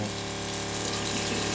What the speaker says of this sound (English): Can you turn the water pump switch on?